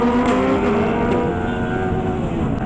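A superbike engine roars continuously and loud during a breakfast ride, a steady throaty drone with no pause and no voices.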